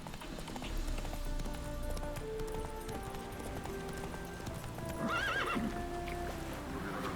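Roach, the horse in The Witcher 3, neighs and gallops with steady hoofbeats over continuous game music, and a louder whinny rises near the end.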